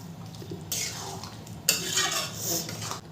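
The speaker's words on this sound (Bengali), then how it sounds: "মটরটা দিয়েও খুব ভালো করে মিশিয়ে নেব।" Peas being mixed into ghugni with a ladle in a pot, several bursts of wet stirring and scraping against the metal, with a low background hum and no talk.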